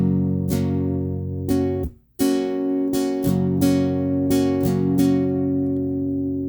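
An acoustic guitar strums slowly in the down-up pattern for a song, with about eight ringing strums and one brief muted pause between them. It is close and clear, with no voice over it.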